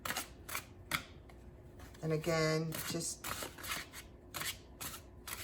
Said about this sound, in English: I'll just give it one more shuffle.